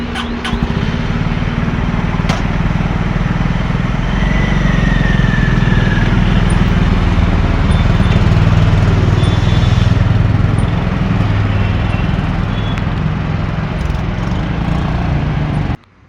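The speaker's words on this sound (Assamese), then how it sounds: "বাইকখন চলাই বৰ ভাল লাগিল, বৰ কমফৰ্টেবল হয় আৰু ইঞ্জিনটো স্মুথ হয়" Honda CB 350 RS motorcycle on a test ride, its engine running as a steady, continuous low rumble with road and wind noise throughout, loud and close, with no talking.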